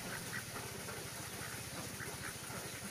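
Egg-laying ducks quack in short repeated bursts over a steady low hum outdoors, moderately near, with no talking.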